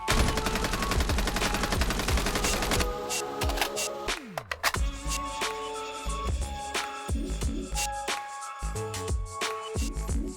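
Continuous automatic weapon fire in Call of Duty Mobile, a fast steady stream of loud shots, then broken into shorter bursts with brief pauses and mechanical clicks between them.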